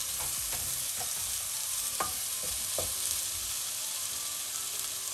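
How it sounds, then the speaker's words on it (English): Paneer cheese fries in a pan with a constant bright sizzle, a few light spatula scrapes and taps breaking through the steady hiss, close up and without speech. "So here we are going to fry the cheese for about 2 minutes."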